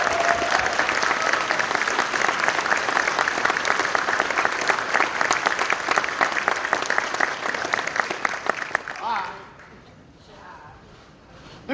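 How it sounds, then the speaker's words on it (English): Loud, dense applause from a large convention audience at a closing ceremony, sustained for about nine seconds before quickly dying away to quiet room tone. "One last round of applause here for them"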